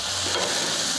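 Marron sizzling on a barbecue grill as they are flipped mid-cook, a loud, steady, close frying hiss with a faint stir of movement and no voices.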